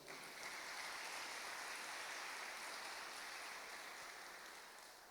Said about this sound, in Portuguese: Diga amém e aplauda ao Senhor.